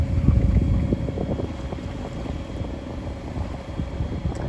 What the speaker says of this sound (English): Motor sailing now with the genoa out.